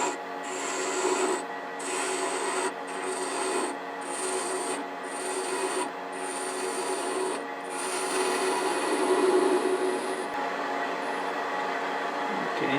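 A wood lathe turns a small box held in a collet chuck with a shallow tenon, a steady close rasping scrape of the cutting tool on spinning wood, pulsing in regular strokes for most of the time before easing off near the end.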